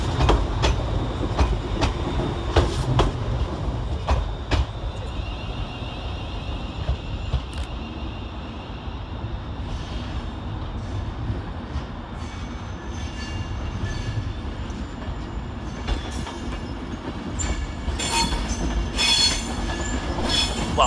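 ScotRail electric multiple unit 318103 pulling out of Glasgow Central station on a service to Ayr, a steady rumbling roll with clicking wheels and occasional high wheel squeals, heard close and continuous amid station ambience.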